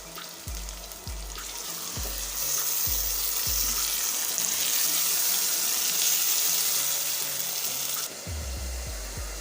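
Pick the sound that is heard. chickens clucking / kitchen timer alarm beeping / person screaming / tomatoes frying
tomatoes frying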